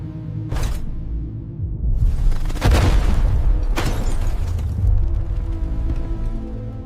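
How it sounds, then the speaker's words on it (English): Explosive bolts detonating at Space Shuttle solid rocket booster separation: several loud booming blasts land over a heavy, continuous roaring rumble. "With a precisely timed, powerful detonation, these critical bolts sever, releasing the expended boosters."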